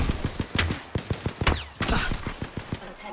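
Rapid bursts of automatic gunfire in the video game Apex Legends, loud and close, with sharp repeated shots in quick rhythm and a brief pause before another stretch of firing.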